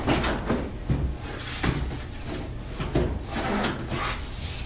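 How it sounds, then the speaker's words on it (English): Sliding doors on a photo booth are pushed open and shut several times, each move a short rumbling slide ending in a soft knock, close and fairly quiet with no talking. "Now we've got 2 doors you can easily slide open and close to make a nice finished look."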